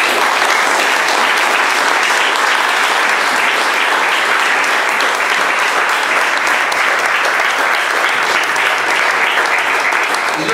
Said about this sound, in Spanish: rindámosle un aplauso